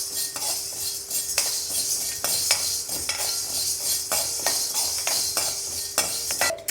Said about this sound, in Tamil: மிளகை நம்ம இப்போது வறுத்துக்கிட்டோம்